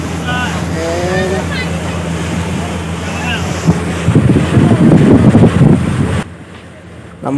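A boat moves slowly across Ana Sagar lake in Ajmer, with an engine drone, lapping water and heavy wind buffeting close by, and voices talking over it in the first seconds.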